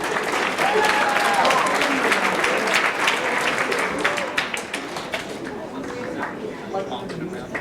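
A school rally audience applauds for Bob, dense sustained clapping from a large crowd that fills the space, then thins out and fades toward the end as talk begins.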